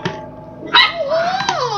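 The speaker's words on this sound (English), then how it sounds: "my dogs are fucking wrestling." Dogs bark and yip briefly while wrestling indoors, a sharp close bark followed by a rising whine, loud and alone without speech.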